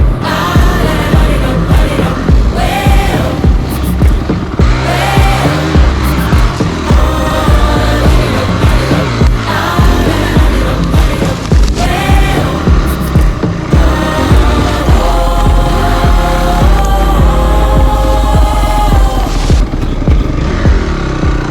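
A Honda CRF 250x dirt bike ridden hard through the Green Mountains of Vermont, engine revving loud and close with rapid throttle swells and bangs over rough terrain, continuous without talk.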